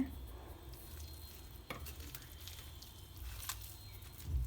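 Coconut biscuit dough being mixed with wheat flour and no extra water, giving soft, uneven stirring and squishing sounds with a few sharper scrapes, moderately close and alone.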